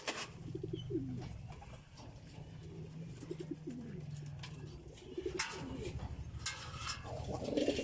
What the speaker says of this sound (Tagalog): Ito yung mga masunuring ibon.